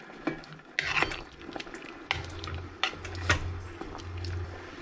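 Fish is stirred into a cooking pot, with irregular scraping and metal clinks from a utensil against the pot over a low, soft bubbling background, close and moderately quiet, with no talking.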